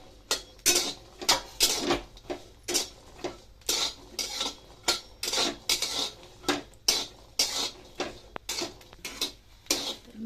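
Green chillies dry-roasting in a hot kadhai without oil, stirred with a metal spoon that scrapes and knocks against the pan in a steady, repeated rhythm of sharp clinks, close and alone.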